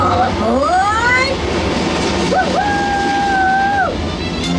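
On Disney World's Journey Into Imagination ride, a train sound effect plays loudly over steady rumbling: a rising whistle-like tone, then a long sustained whistle blast that drops off at the end, with a voice faintly underneath.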